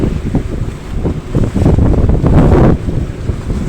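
Strong wind buffets a fishing boat heading out to tuna grounds on a rough sea, with loud, continuous gusts roaring over the microphone and waves surging against the hull, rising to a peak before easing slightly.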